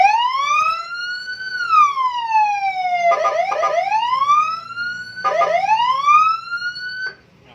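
A custom TST police-style siren fitted to a 2020 Yamaha Nmax scooter, sweeping between two tones with long wailing rises and falls and bursts of a choppier pulsed tone, loud and close with no talking.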